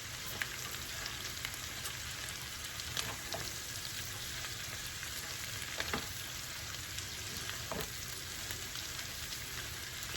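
Cabbage fried with shrimp, sausage and bacon sizzles steadily in a pan, a dense close hiss with a few scraping knocks as it is stirred.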